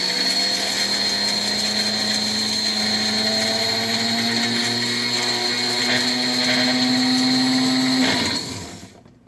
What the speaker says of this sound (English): I'm going to blend this up to a really nice fine consistency